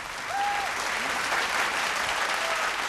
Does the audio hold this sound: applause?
yes